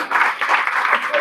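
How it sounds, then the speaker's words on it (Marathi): Loud, continuous audience applause at a Guru Purnima festival satsang in 2024, a dense wash of clapping that swells in a few waves over a little more than a second. "त्यांना राग आला असेल तर एकदा जोरात टाळ्या वाजवा."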